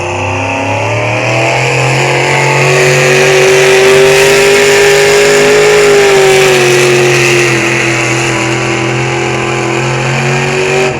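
A loud race truck engine revs and holds a high, sustained drone, pitch rising slightly and then easing, close and continuous with no talking, at a night race event.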